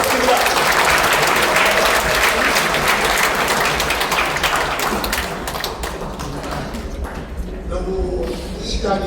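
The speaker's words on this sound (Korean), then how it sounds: "우리 이사장님의 말씀을 여러분 큰 박수로 청해 듣겠습니다." An audience applauding at a book launch event at the National Assembly Museum, dense sustained clapping from many hands filling the room, gradually thinning toward the end.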